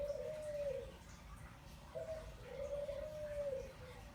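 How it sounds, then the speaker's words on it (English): Pigeons or doves cooing outdoors in two drawn-out phrases, faint and somewhat distant over a low steady background hum, with no talking. "the birds are so noisy in the background"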